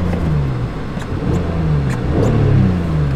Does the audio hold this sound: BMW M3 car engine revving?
yes